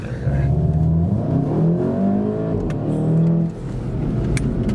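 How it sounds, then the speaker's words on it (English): A car engine, either a BMW 320d or a VW Golf GTI, revs hard under acceleration with rising tones through a gear change, loud and close from inside the car, with brief talk beneath it. "it's a lovely engine and it makes a really good noise, especially when you change up"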